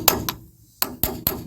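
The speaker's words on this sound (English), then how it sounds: "Grab a nice wide chisel, and you're going to work your way around it." A hammer strikes a wide chisel to loosen a trailer wheel bearing cap, five sharp metallic blows, close and loud, with a short pause after the first two and the last three coming in quick succession.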